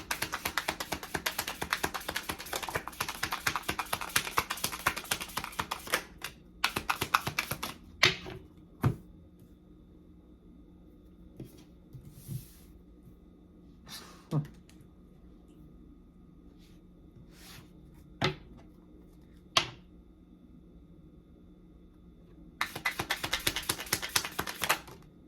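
Tarot cards handled and shuffled at a reading table: dense runs of fast, crisp riffling taps open and close the stretch, with a few sharp isolated card snaps and quiet gaps in between, close and fairly loud.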